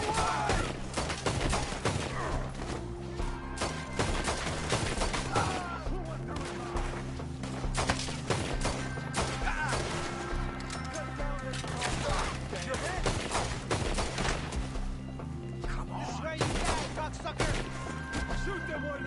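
Gunfire rattles almost nonstop in a Red Dead Redemption II shootout, with dense volleys of shots and bursts mixed with shouting voices throughout.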